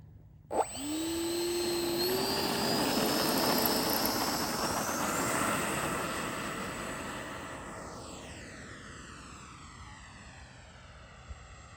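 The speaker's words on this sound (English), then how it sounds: "we're gonna do the fun flight with the FlyFans 64mm L-39 from Banana Hobby." A FlyFans 64mm L-39 electric ducted fan RC jet spools up with a whining roar, then passes overhead and fades into the distance, with the pitch sliding down as it leaves, in an outdoor evening fun flight.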